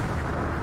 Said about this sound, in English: A series of explosions goes off at the soldier's feet, and a cloud of dust rises.